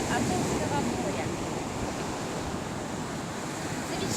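Waves wash continuously onto the Azov Sea shore, a dense, even roar of surf mixed with wind, fairly close and unbroken throughout.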